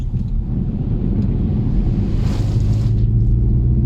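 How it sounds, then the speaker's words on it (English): Car driving through a big patch of water on a rainy road in England, heard from inside as a loud low rumble with a hissing splash that swells briefly about midway. "I'm just going through quite a big patch of water in the road"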